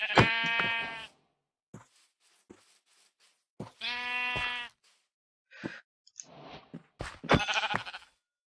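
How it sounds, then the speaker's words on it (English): Sheep in the video game Minecraft VR bleat several times: a long bleat opens the clip, a second clear one follows midway, and shorter calls come near the end, each standing alone against silence. "We need sheep."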